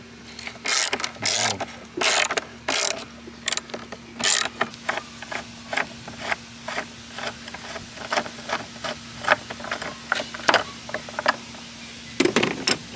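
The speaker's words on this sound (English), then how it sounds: "And then we're gonna remove the 20 millimeter bolt." Wrench removing the 20 mm battery bolt on a Saab, a run of sharp ratcheting clicks in short bursts under a low steady hum, close and loud.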